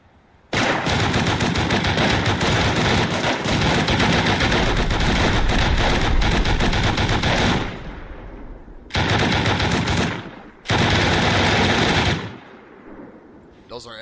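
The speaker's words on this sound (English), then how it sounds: "Those are M2 turrets with incendiary." M2 turrets loaded with incendiary rounds blaze away in the survival game Rust, a loud sustained automatic burst running about seven seconds, followed by two shorter bursts after brief pauses.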